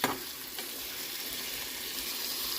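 Whole spices and onions fry in hot oil in a pan, a close, steady crackling sizzle that holds throughout with no speech.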